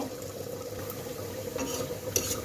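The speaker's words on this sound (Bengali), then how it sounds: "এখানে পেঁয়াজ রসুন সরিষার তেল দেওয়া হয়েছে একটু লাল করে নিব" Onion and garlic frying in mustard oil, a soft steady sizzle with faint stirring scrapes, close by and quiet, with no voices.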